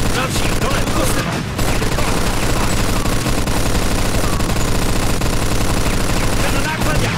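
Machine gun fire in the video game Mafia II, loud and continuous rapid bursts that barely pause, with a brief break near the start and another near the end.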